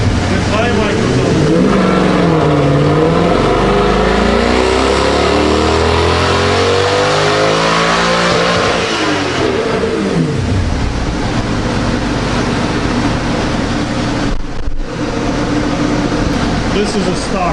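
A stock-tuned sports car engine revs up and falls back loudly and close, the pitch sweeping high then dropping, with a steady mechanical roar continuing afterward.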